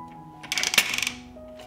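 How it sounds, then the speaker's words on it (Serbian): A 6-litre pressure cooker lid being shut, giving a short burst of metallic clicks and clatter that peaks in a single sharp snap, close and brief. "Zatvorit ću ekspres lonac"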